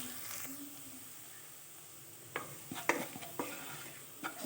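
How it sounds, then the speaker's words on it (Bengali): Mixed fried rice with vegetables frying in a pan, a soft continuous sizzle at first, then several sharp spatula scrapes and stirring knocks toward the end, close by and without talk. "এভাবে ভেজে নিতে হবে।"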